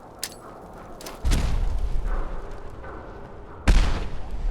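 Grenades in Fallout 4 go off in two heavy, booming blasts a couple of seconds apart, each a sudden loud thump that rumbles away over quiet game ambience.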